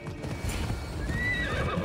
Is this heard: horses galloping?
yes